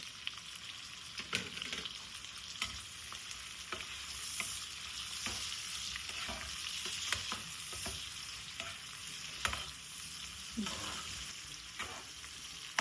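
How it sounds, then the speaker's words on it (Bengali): Onions with garam masala frying for biryani, a spoon stirring through the pan in repeated scraping strokes over a soft continuous sizzle, close and fairly quiet. "গরম মশলা অ্যাড করে দিয়েছি, আর এর মধ্যে আমরা পেঁয়াজগুলো অ্যাড করে দিচ্ছি, দিয়ে একটু নাড়াচাড়া করে নেব"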